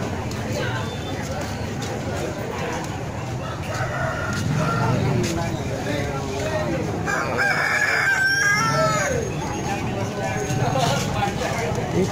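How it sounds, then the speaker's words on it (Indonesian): Joper chickens at a large chicken market in Pasuruan, East Java, crowing and clucking amid a busy crowd, with bird calls rising over steady market chatter and people talking throughout. "Ini ada ayam joper loh,"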